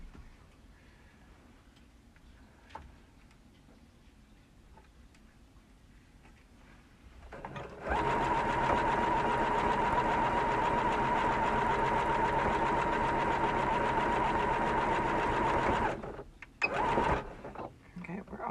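A sewing machine backstitching runs in a loud, steady close-up whir for several seconds, then stops abruptly and gives a couple of short stutters, with softer handling noises before it starts.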